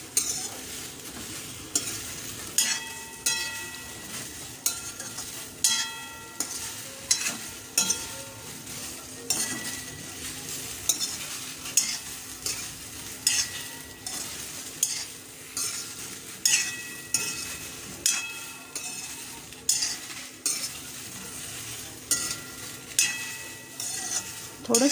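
Okra roasting lightly in a pan for a quick bhindi bhaji, with a soft steady sizzle under repeated spatula stirs and scrapes that clink against the pan, close and regular throughout.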